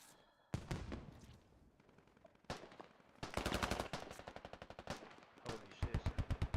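Machine gun fire in a squad-based video game, several loud rapid bursts of automatic shots separated by short gaps, with the final burst sharp and evenly spaced.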